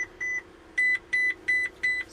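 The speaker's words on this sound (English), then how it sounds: "But within minutes, an alarm goes off." A facial recognition system alarm sounds a string of five clear, evenly spaced electronic beeps at close range over a faint steady hum, with no speech.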